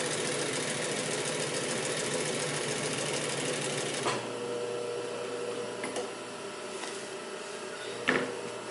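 Pfaff 145-H3 triple-feed industrial sewing machine stitching slowly with a size 18 needle and Tex 90 thread, a steady mechanical whir for about four seconds, then quieter hum with a few sharp clicks.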